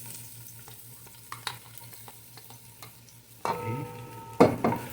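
Minced garlic hits a hot pan for sauteing, starting as quiet stirring scrapes before a sudden sizzle bursts up near the end, with a second louder flare as it is stirred, close and without talk.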